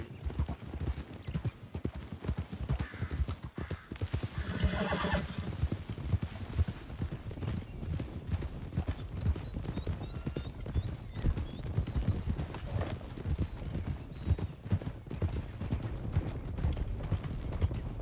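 Horse hooves clip-clop at a steady rhythm in the RedM roleplay video game, set around 1920, close and continuous, with a brief whinny partway through.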